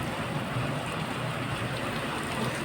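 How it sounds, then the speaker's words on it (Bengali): Rain beginning to fall gives a steady, even hiss of drops on surfaces. The moderate wash stays constant throughout, with no voices. "এখন দেখছি বৃষ্টিটা শুরু হলো লাস্টে।"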